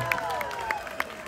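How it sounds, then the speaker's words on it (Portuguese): A crowd applauds and cheers for Luizinho Fulião at a Santos Reis folia show in Itaguari, Goiás, a brief steady patter of clapping mixed with voices and music. "Cadê os aplausos para ele"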